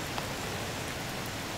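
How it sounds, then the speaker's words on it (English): Steady rain falling outdoors in sunshine during a deer hunt, a soft continuous hiss of drops pattering on surfaces, even and close, with no other sounds standing out. "The sun is literally shining right now and it's still raining on me."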